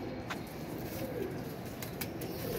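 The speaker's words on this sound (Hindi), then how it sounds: "ये है जी वीवर हरा कबूतर।" Pigeons cooing among a flock of green racing pigeons, soft low coos repeating close by over a steady background, with a few faint chirps and a brief flutter.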